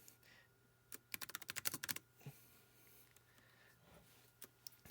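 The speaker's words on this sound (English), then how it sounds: "actually just record myself typing" Typing on a computer keyboard: a lone keystroke, then a rapid burst of a dozen-plus clicking keys, followed by a few scattered taps near and fairly soft, with no voices.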